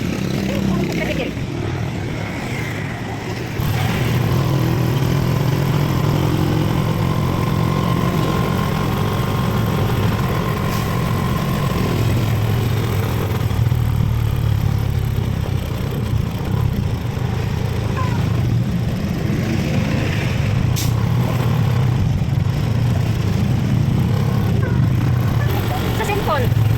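A motorcycle-with-sidecar tricycle drives along a Dumaguete City street with a continuous buzzing engine drone and road rumble close by, while people talk over it.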